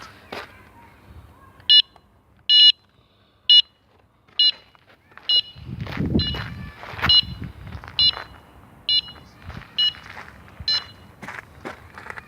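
A burglar alarm going off at a rubbish dump sounds in a run of sharp, evenly spaced electronic beeps, with rustling, footsteps and handling noise close by in between.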